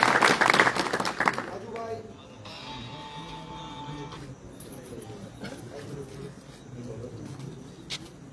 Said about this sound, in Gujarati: તેને તાળીઓના ગગડાટ.